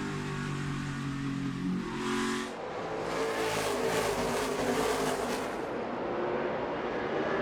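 NASCAR Xfinity Series stock cars racing at speed, a loud roaring pack of engines building and sweeping past close by, then holding a sustained blare before easing off, with no talk.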